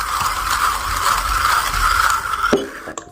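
A coffee grinder grinds Starbucks Sumatera dark roast beans in a steady mechanical whir with a gritty rattle of beans, close and continuous for about two and a half seconds, then it cuts off abruptly into quiet.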